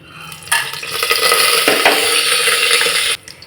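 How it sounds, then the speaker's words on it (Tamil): Whole spices hit hot ghee and oil in a pan for mutton biryani, bursting into a loud, steady sizzle that starts abruptly and cuts off sharply a few seconds later, with no talk. "மசாலா பொருள்களை போட்டு தாளிச்சிடலாம்."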